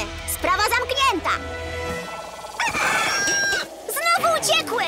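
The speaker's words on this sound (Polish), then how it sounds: "Właśnie gonimy dwa małe kurczaki." Animated chickens cluck in quick bursts and a rooster crows loudly in a cartoon chase scene, mixed with speaking voices and music.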